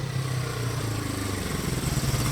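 A 1972 Honda CL350K4 Scrambler with a tuned engine running close by, a steady, throbbing mid-pitched exhaust drone with no voices.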